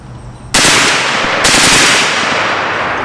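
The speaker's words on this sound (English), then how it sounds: "The gun's firing 3-round bursts and stopping." An M-2 carbine fires two loud bursts of rapid shots, the first starting abruptly and a second following about a second later, each ringing on with heavy echo.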